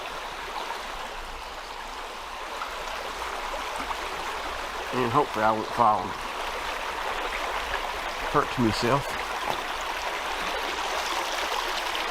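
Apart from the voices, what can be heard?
stream of water flowing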